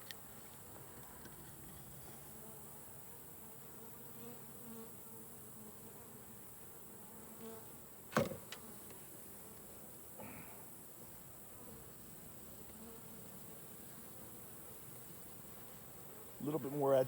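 Africanized honeybees buzz around an open hive in a faint, steady hum that drones on throughout, with a few brief knocks and clicks of handling breaking in near the middle and end.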